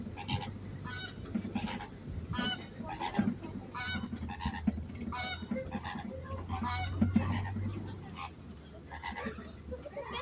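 A flock of greater flamingos at a safari park gives repeated nasal, goose-like honks that overlap into a steady chatter at moderate distance.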